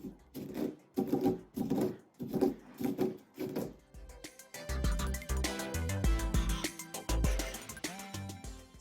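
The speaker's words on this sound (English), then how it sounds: "I'm gonna grind them up" Cacao beans are ground in a mortar. First comes a steady rhythm of rough grinding strokes, then a denser run of crunchy, clattering scrapes, all close and fairly quiet with no talking.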